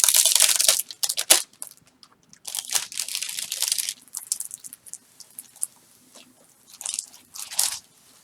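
Cellophane and parchment paper crinkle and crunch close up while being handled during an unboxing, loud bursts of crackling in clusters separated by short quiet gaps.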